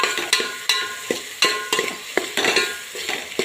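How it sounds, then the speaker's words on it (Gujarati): Chili powder, salt and turmeric frying in oil with onions and tomatoes in a pan, a close sizzle punctuated by regular sharp clinks and scrapes of a spoon stirring, no talking. "હવે આપણે મસાલાને મિક્સ કરી લઈશું."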